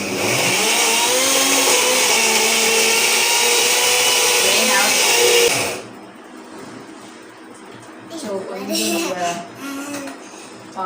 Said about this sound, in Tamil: இதெல்லாம் அப்படியே அரைச்சிக்கலாம். இந்த மிக்ஸியை வச்சு நான் ஒரு ரிவ்யூ கொடுக்குறேன்.